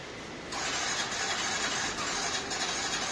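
A Yamaha Fascino scooter, freshly reassembled after a half engine repair, fires up with one-tap start about half a second in and keeps running with a steady, rough, close engine roar to the end; no talking.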